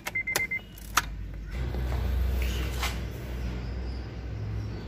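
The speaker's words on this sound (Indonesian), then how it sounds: "Coba kita matikan mesin." A 2005 Honda Odyssey Absolute (RB1) minivan engine is switched off from inside the cabin, with a few sharp key and switch clicks at the start, then a steady low hum that fades into quiet interior ambience.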